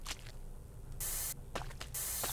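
Orange spray paint hisses from a can in the video game Erie, two loud, steady bursts about half a second each, separated by quieter background noise.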